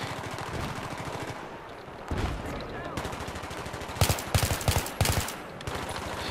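Suppressing gunfire in Battlefield 3: rapid bursts of automatic fire in a steady rattle, with louder close bursts later, heard under faint game ambience.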